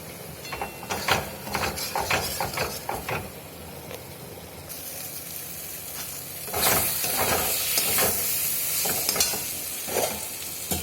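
Boiled hot water poured into a hot cooking pan of vegetarian rice and pointed gourd curry, with scraping stirs and crackling sizzle, then a louder steady hiss and bubbling as the water hits the pan.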